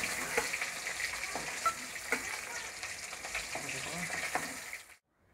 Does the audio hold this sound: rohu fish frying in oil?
yes